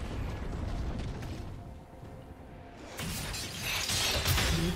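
A turret being destroyed in League of Legends, a shattering, crumbling blast that rumbles over dense game noise and swells louder toward the end, with no talk.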